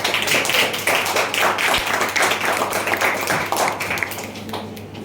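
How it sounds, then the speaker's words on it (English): A meeting crowd at a Pongal celebration breaks into a round of applause, dense steady clapping from many hands filling the room for several seconds before tapering slightly at the end. "Please give a big round of applause."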